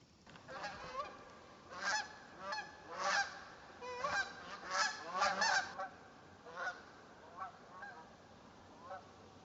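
A flock of Canada geese honks repeatedly from a distance on a September morning, overlapping calls rising and falling in bursts before thinning out toward the end.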